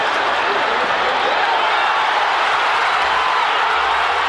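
Stadium crowd roaring and cheering at an Orange Bowl soccer match, USA versus Haiti in the 2000 Gold Cup, a loud, dense wash of applause and shouting that holds steady throughout.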